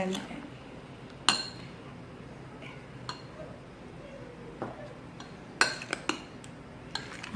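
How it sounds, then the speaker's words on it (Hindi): A spoon clinks and scrapes against a bowl as mixed fruits are stirred into cream, scattered sharp metallic taps spaced irregularly over quiet room tone. "मैंने तमाम फ्रूट्स इसमें ऐड कर दिया है, और इसको मैंने अच्छे से मिक्स कर दिया"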